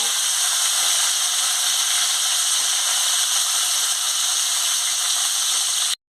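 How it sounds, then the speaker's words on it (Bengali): Cauliflower dropped into hot oil in a wok gives a loud, dense, steady hiss and sizzle that holds evenly for about six seconds before cutting off abruptly. "এবার আমার তেল গরম হয়েছে, আমি ফুলকপিটা কড়াতে দিয়ে দিচ্ছি।"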